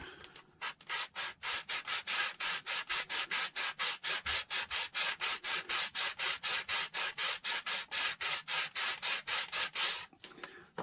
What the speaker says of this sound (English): Then get a sanding block.